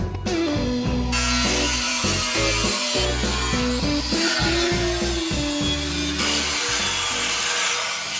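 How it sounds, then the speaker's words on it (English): A power saw cuts steadily through the steel frame rail of a 56 Chevy Gasser in a garage, a loud continuous grinding whine that runs unbroken with no voices. "So we cut the frame on the top and the bottom."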